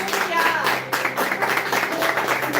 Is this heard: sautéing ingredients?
no